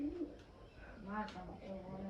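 Hungry pigeons coo softly while grain is scattered for them, low throaty calls repeating through the clip with people talking nearby.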